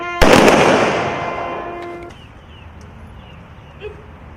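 At a veterans' honour ceremony in Lampang, a ceremonial rifle salute fires a single loud, sharp volley. The blast rolls away in a long echoing decay lasting about two seconds, followed by quiet outdoor ambience.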